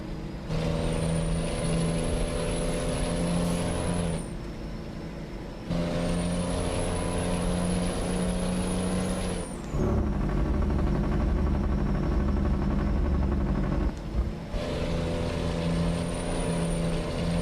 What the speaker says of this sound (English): Man, that thing sounds great. Probably one of the best engine brakes